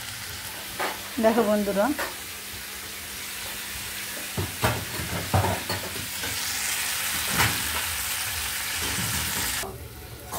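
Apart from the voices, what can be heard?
frying cumin, chili, ginger and garlic paste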